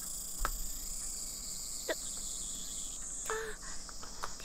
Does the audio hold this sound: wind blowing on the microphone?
no